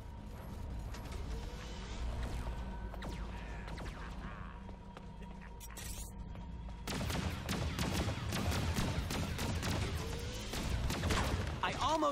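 Star-Lord's planted turrets in Disney Infinity 2.0 survival mode open up in dense rapid bursts of gunfire over mechanical clatter and game music, with someone talking.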